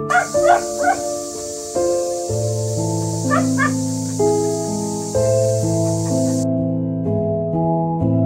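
A malnourished, timid stray dog whimpers and yips in short bursts near the start and again mid-way, heard over steady background music with a sustained high hiss.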